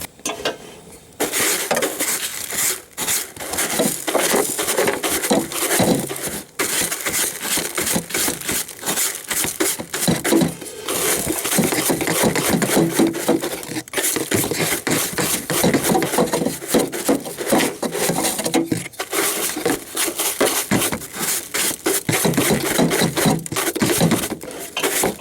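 A 2-inch brush scrubs grit inside a metal gutter with steady back-and-forth strokes that scrape and rasp close up, continuous and fairly loud with no one talking.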